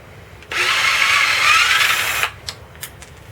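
A power drill whirs loudly for about two seconds, close by, removing cylinder head bolts on a 7.3L PowerStroke diesel engine, followed by a few short clicks and knocks.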